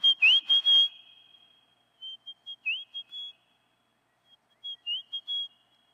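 Human whistling mimics three rufous sibias answering one another: a loud burst of rapid high notes with a swooping tone, then two fainter, slightly shorter replies after gaps, as if coming from birds farther away.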